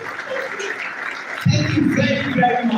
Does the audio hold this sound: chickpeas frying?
no